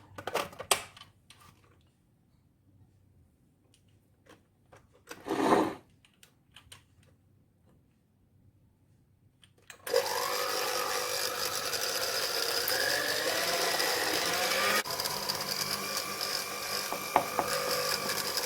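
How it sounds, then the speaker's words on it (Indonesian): A stand mixer kneading bread dough for coffee buns starts up midway after quiet handling clicks and a brief knock, then runs as a steady, loud motor whir with a thumping, rhythmic kneading drone that continues to the end. "Kita mixer lagi selama 4 menit."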